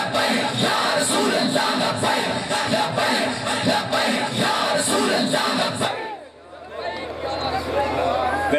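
A large crowd at a religious conference in a madrasa chants Labbaik slogans in a loud, rhythmic, repeated roar that stops abruptly, after which a single voice speaks over a quieter background.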